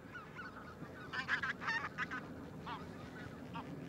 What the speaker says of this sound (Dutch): Vooral met strenge winters trekt de toendra-rietgans vanuit Noord-Rusland naar het stille gebied in het noorden